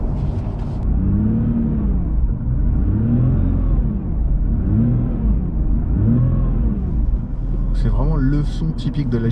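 A Nissan GT-R Nismo's engine revs in four repeated rising and falling surges, loud and close, with turbo whistle. A brief burst of other noise follows near the end.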